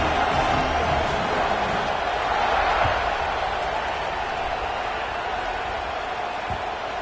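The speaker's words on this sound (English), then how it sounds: "this crowd is buzzing after that last score" A packed college football stadium crowd at a Penn State at Michigan game buzzes after a score, a steady, dense roar of many voices that holds evenly throughout without any single standout cheer.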